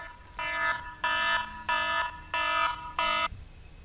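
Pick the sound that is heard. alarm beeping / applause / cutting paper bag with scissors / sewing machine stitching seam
alarm beeping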